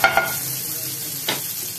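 Ghee and butter in a frying pan give a short, steady sizzle, with a couple of clinks at the start and another soft knock near the end. The sound is close and has no talk over it.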